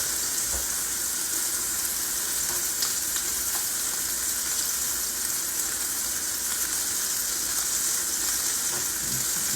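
A ribeye steak searing in a hot pan, a steady, loud, close hiss and crackle of sizzling fat that runs unbroken the whole time with a few faint pops.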